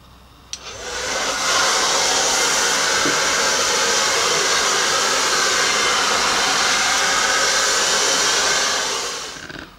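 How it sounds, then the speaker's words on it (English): A hair dryer blow-drying a virgin-hair wig switches on with a click and roars at a steady, loud, close-up whoosh for about eight seconds before winding down at the end. "so you spread your heat protector and now you're ready to blow dry"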